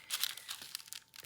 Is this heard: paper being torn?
yes